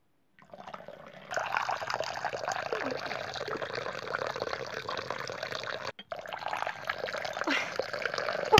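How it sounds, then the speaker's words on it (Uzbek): Water pours in a steady, loud rush like a small waterfall, cutting out for a moment partway through before resuming just as strongly. "Voy ovozini qarang. O'sharsharani ovozi chiqadi ya."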